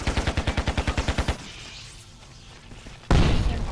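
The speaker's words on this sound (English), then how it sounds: "Artillery!" Gunfire in the game Carrier Command: Gaea Mission opens with a fast, loud burst of about a dozen evenly spaced shots, then a lull of low rumble before a sudden heavy blast erupts and roars on.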